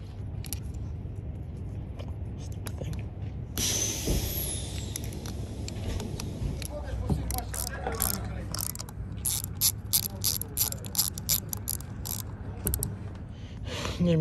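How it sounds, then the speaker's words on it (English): A ratchet wrench torques bolts on the a/c compressor of a Kenworth W900 truck: close, quiet mechanical clatter, then rapid repeated ratcheting clicks in quick bursts. "Okay, I'm just gonna torque them down."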